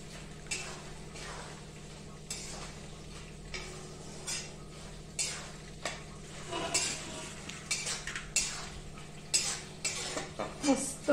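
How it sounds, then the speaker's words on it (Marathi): Asafoetida, turmeric and coriander powder being roasted in a pan with the gas off, heard as repeated clinks and scrapes of a spoon against the pan, quiet and close, with a faint sizzle. "गॅस बंद करायचा आणि हे ह्यामध्ये घालून भाजून घ्यायचं."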